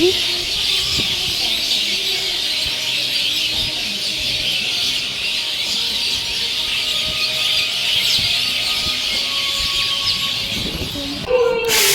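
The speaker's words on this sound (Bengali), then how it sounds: "সন্ধে হয়েছে আর এই আমাদের জানলার বাইরেই বালসার আছে এত পাখির আওয়াজ কি বলবো মানে এত পাখি" Many birds call together outside a window at dusk, a dense, steady chorus of chirps and twitters that fills the background without pause.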